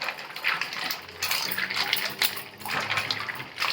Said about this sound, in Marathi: स्वच्छ दोन तीन पाण्याने अशी धुवून घ्यायची